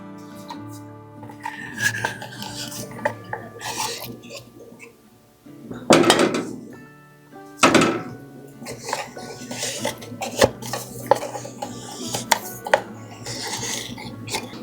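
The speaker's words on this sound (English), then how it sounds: "Now we're just going to give that a little stir, get it all combined." A spoon stirs a melting no-bake Christmas treat mixture in a pot, scraping and clinking against the metal, with two sharper knocks partway through and a steady low kitchen hum underneath.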